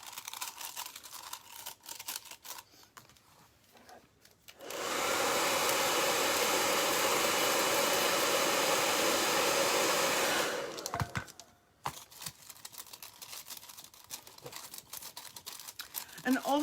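Heat tool blowing hot air onto foil over a clay pot, a loud steady close whoosh lasting about six seconds, with handling rustles and crinkling before and after.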